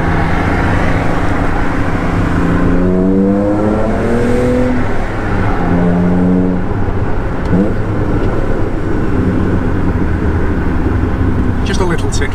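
Restored Alfa Romeo GTV engine droning loudly from inside the car while driving, with rising and falling rev tones as it pulls through gears, and occupants talking over the steady engine noise.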